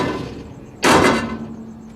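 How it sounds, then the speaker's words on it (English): A small hammer strikes a large car fender once, giving a single sharp metallic bang that rings briefly before fading under a low background hum. "look what this little hammer does to this big of a fender."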